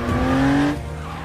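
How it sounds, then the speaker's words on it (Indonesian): A car speeds off fast with a sharp tire squeal and skid, loud and close, the tone holding steady before cutting off abruptly, with no speech. "seketika mobil itu melaju dengan sangat cepat"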